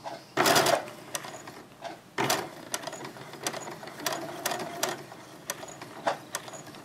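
A sewing machine stitching fabric for a diaper changing bag, with a backstitch, gives a close, rapid mechanical whir in short runs broken by brief pauses and clicks.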